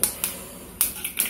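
Mustard seeds spattering in hot oil while making curd unniappam, a few sharp, crisp pops and crackles scattered irregularly across a second, close and fairly loud.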